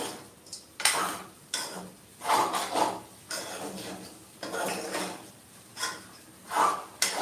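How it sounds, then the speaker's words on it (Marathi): Sabudana khichdi stirred in a pan on a medium gas flame, a spoon scraping and clinking against the metal in repeated bursts, close and moderately loud, with no talking. "आता हे छान असं मिक्स करून घेऊया"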